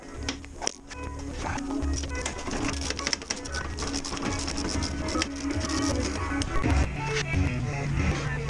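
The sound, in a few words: removing Jeep Wrangler fender bolts with a ratchet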